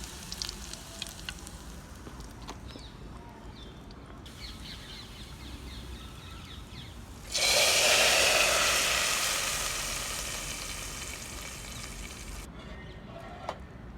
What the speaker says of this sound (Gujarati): હવે આપણે આ વઘારને આપણી ગરમા ગરમ કઢી પર ઉમેરી દઈશું